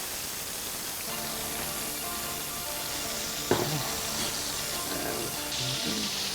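Arborio rice toasting in olive oil in a pan gives a soft, steady sizzle under a faint hiss, with a sharp clink of a utensil near the middle and light stirring scrapes afterward.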